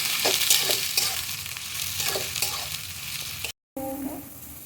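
Beans and carrots stir-frying for chowmein in a hot pan, a steady loud sizzle with repeated scraping stirs throughout, broken by a brief gap near the end before the frying resumes.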